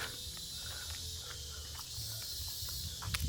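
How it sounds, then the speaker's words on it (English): Cicadas buzzing around a temple in Cambodia, a steady high-pitched drone hanging over quiet surroundings with faint low rustles and occasional brief distant sounds, no talking. "All you can hear is cicadas and occasionally our children."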